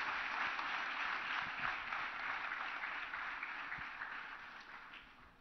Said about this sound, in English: Now a big applause.